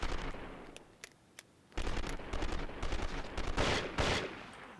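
Gunfire in a shootout in the video game 24, bursts of sharp rapid shots and automatic fire, a few isolated cracks then sustained loud volleys, with no talking.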